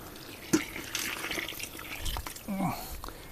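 Water splashes and trickles as about a litre is poured onto quicklime for slaking, with thuds and clinks from handling the container and a brief voice in the background.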